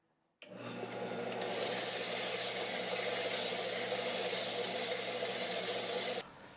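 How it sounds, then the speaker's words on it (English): Belt sander running a 100 grit belt to flatten the arched, cupped sole of a Harbor Freight jack plane, starting abruptly into a steady loud motor whine with harsh continuous abrasive rasping, then cutting off. "I'm going to do the initial flattening on this belt sander using a 100 grit belt."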